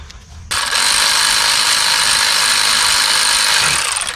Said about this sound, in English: we're going to remove this 14 bolt right here